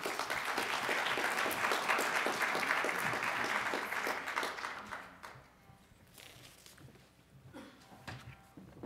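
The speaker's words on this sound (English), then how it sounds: "a big round of applause for him" Sustained applause from a conference audience at an academic development event, loud and dense for about five seconds before thinning into scattered claps and shuffling.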